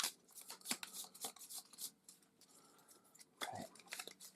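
A deck of cards from the board game Molly House is shuffled, giving soft repeated riffling and flicking bursts with quiet rustles between them and no talk.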